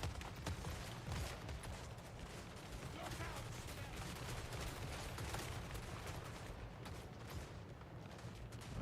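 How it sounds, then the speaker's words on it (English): Handgunner volleys in Total War: Warhammer 3 battle, a dense continuous crackle of massed gunfire against zombies, steady and loud with a rumbling low battle bed throughout. "Handgunners! Fire!"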